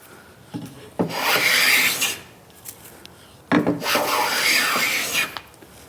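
A hand plane pulls long shavings off padauk wood for a natural-edge desk. Two sustained, close rasping strokes, each about a second long, are separated by a pause with light knocks.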